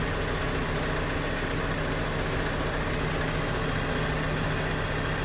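A John Deere 3010 tricycle tractor hauling hay bales runs with a steady, loud diesel chug and knock, a continuous engine drone close by with no voices.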